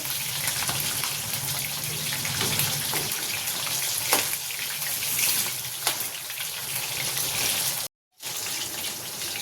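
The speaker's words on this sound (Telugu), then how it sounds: "మంచిగా ఎర్రగా ఫ్రై చేసుకోవాలి మీడియం ఫ్లేమ్లో" Chicken leg pieces and wings frying in oil over a medium flame, a dense continuous close sizzle with a brief dropout near the end.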